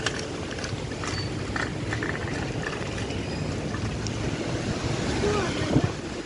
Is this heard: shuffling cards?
no